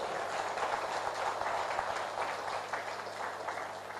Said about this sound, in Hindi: उनके लिए एक हाथ ताली हो जाए।